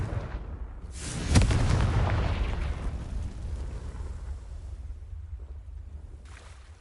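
A Confringo spell explosion from Hogwarts Legacy on PS5 bursts with a sharp blast just after the first second, then rolls into a long, heavy rumbling decay that fades slowly.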